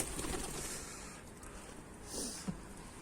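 Mardin pigeons flying and cooing outdoors, with faint, distant soft coos and light flutters over a steady wash of wind and ambient noise.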